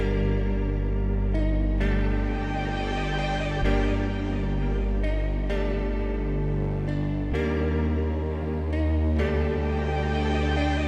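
Swelling reversed synth tones repeat with echoing delay and washy reverb, layered in a sustained, shimmering texture that rises and cuts in waves.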